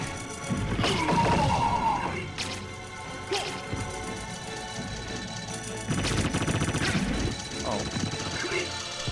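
Bombs explode in Castlevania: Symphony of the Night, bursts amid a busy mix of game effects and music, several sharp booming crashes spread through the clip.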